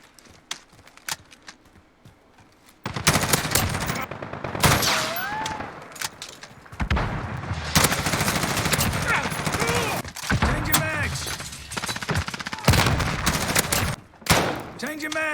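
Rapid bursts of M4 rifle fire in a video game, close and loud, broken by short pauses for reloading and magazine changes, with game sound effects and a voice talking over it.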